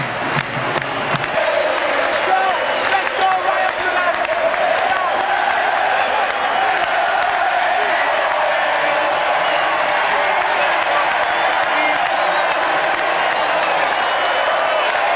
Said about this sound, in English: They're going to take the applause of their fans